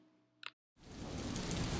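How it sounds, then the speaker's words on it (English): Light rain falling on a forest hike, a steady dense hiss of drops that sets in after a short silence and continues evenly, preceded by a brief faint chirp. "A light rain comes and goes."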